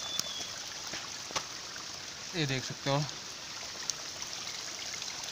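Water from a natural spring trickles and flows steadily among dense forest on a village trek to a temple, a continuous soft wash with a brief voice speaking over it midway.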